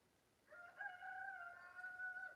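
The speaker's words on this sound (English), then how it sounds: "Heard the rooster." A rooster crows once on a farm, a faint, fairly distant call with a rising then sustained tone lasting about two seconds over quiet background hiss.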